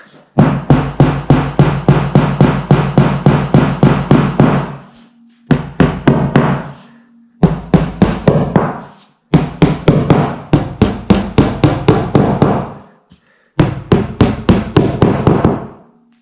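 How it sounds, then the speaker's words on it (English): Rapid, steady hammer blows ring out in several bursts, each a string of sharp close taps separated by brief pauses, as pieces are hammered into an IKEA Kallax shelving unit panel. "Just need to hammer them in a bit."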